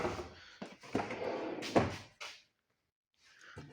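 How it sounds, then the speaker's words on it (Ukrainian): Beech wood furniture drawers are opened and closed several times, with sliding rumbles and a few firm thuds close by, followed by a brief pause and a soft shuffle. "А це 5 шухлядок, просто звичайних."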